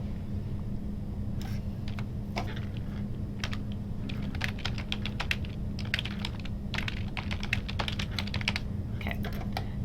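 Computer keys clatter in fast, uneven bursts of typing over a low, steady background hum, close and fairly quiet, with no one talking.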